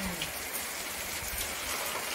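Steady rain falls on surfaces around a house veranda, a dense continuous patter close by with no voices.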